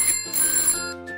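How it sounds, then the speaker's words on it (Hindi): A telephone rings with a bright, electronic tonal trill, repeating in quick close bursts, loud and alone with no voices. "यह फोन जरूर जोजी का होगा"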